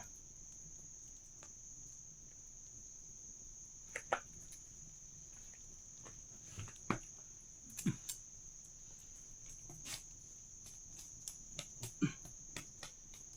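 Crickets and other insects trill continuously at night in a rural setting near a fruit tree, a steady high-pitched chorus with occasional faint knocks and rustles nearby.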